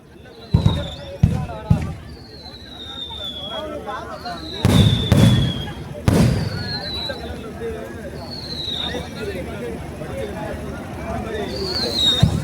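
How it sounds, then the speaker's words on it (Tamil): Three kinds of fireworks burst at a Madurai Kaliamman temple chariot festival in Thottiyam, Trichy. Sharp, loud cracks come in clusters over crowd babble and public-address talk, with repeated whistling sweeps in between. "3 விதமான வெடிகள் ஒரே மேடையில் வெடிக்க இருக்கின்றார்கள்"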